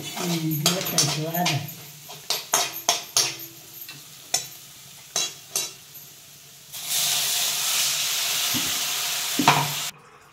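Dried chickpea leaves sautéed in a pan with garlic, green chillies and peanuts: clattering stirs and scrapes up close, then a steady loud sizzle for a few seconds before it cuts off.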